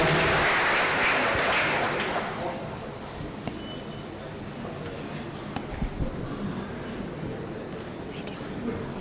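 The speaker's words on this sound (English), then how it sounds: "A round of applause to her as she mounts the podium." Students at an engineering college orientation clap as the registrar mounts the podium, a brief burst of applause in the first two seconds that quickly dies down into quiet room murmur and faint movement.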